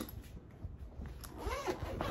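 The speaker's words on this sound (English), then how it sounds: "The bottom part zips around" A zipper running around the bottom of a bag as it is zipped open, one close continuous rasping pull lasting about two seconds.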